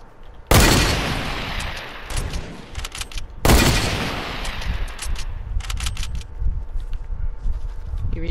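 Gunfire during a Fortnite duos sniper shootout: two loud, sudden shots about three seconds apart, each followed by a long, rumbling tail, with fainter crackling and scattered smaller shots between and after them.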